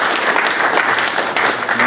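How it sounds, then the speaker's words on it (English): A crowd at a hackathon awards event claps steadily in a dense, even round of applause that holds at a consistent level throughout. "a round of applause for sure"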